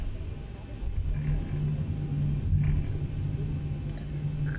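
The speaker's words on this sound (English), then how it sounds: "Oh yeah, engine sounds are really nice." Boeing 737-800 jet engines in the X-Plane 11 flight simulator, a steady low rumble and whine idling on the ground while taxiing, continuous and even, with faint cockpit clicks and no one talking.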